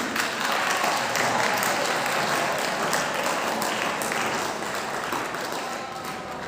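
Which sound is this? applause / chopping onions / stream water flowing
applause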